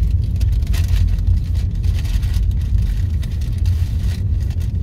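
Car driving through wet, snowy streets in Weiler im Allgäu, a steady low engine rumble and tyre noise with hissing slush spray, heard from inside the cabin and continuous throughout.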